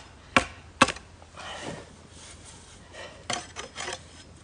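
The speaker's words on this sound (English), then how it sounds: "So just run your hatchet or machete over the surface." Hatchet or machete blade dragged across a wooden surface at a bushcraft camp: two sharp scraping strokes, then softer rasping rubs and a few more quick scrapes, close and fairly quiet, with no talk.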